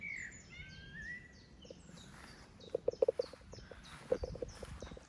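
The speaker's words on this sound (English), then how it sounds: "Listen to the birds for a minute" Birds singing outdoors: thin whistled calls early on, then a cluster of sharp repeated chirps and tweets near the middle and end, fairly faint over quiet background ambience.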